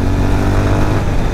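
Rumbling single-cylinder engine of a 2023 Honda CB350 RS motorcycle pulling hard under acceleration, loud, close and steady throughout.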